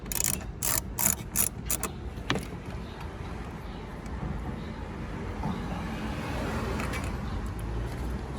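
A ratchet tool clicks in a short rapid run while loosening tail light screws on a Tesla Model 3/Y, followed by a steady low hum of background noise with no talking.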